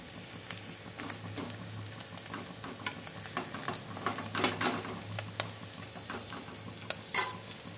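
An egg and potato mixture fries in a pan with a soft, steady sizzle, punctuated by light scraping and tapping of a spatula, fairly quiet and close with a sharper clink near the end.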